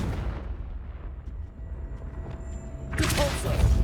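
A Confringo fire spell blasts in Hogwarts Legacy, a deep rumbling boom that builds and ends in a bright, crackling burst of fiery noise, loud and close, with no voices.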